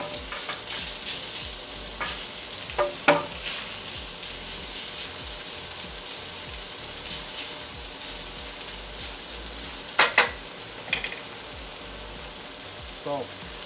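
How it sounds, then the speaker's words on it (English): Diced wild turkey meat frying in olive oil in a preheated pan, giving a steady close crackling sizzle throughout with occasional louder pops and utensil clicks. "Okay, so I've had this pan preheating for a minute. Douse it with a couple tablespoons of olive oil. Got my diced turkey meat."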